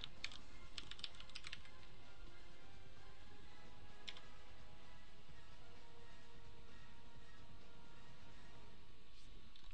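Fast, close typing on a computer keyboard continues throughout as an email address is entered, with quick key clicks in uneven bursts over a steady background hiss.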